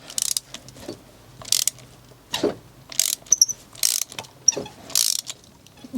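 Ratcheting clicks from a 16mm spark plug socket working a plug on an engine come in short, separate bursts with pauses between them, close and fairly loud, with no talk.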